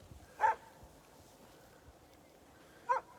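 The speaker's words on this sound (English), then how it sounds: "See that? Another set of dogs there." Sled dogs at a Willow 300 race checkpoint at Susitna Landing bark in two short, sharp bursts separated by a gap, over a steady low outdoor background.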